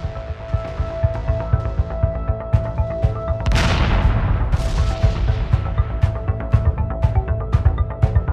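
Heavy artillery shelling over Beirut in 1982, heard as a dense, continuous barrage of loud booms and cracking blasts that repeat in quick irregular succession, with a large roaring explosion partway through.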